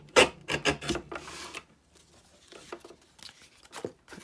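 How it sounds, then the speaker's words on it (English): Paper is cut and torn close up as a side flap comes off a piece of ephemera, giving several quick, loud rasping strokes and then softer, scattered rustles and scrapes. "So let's cut this side flap off."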